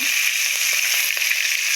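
Chicken lightly frying in a pan for a homemade restaurant-style chicken biryani gives a loud, steady hiss and sizzle, with a few faint stirring clicks underneath.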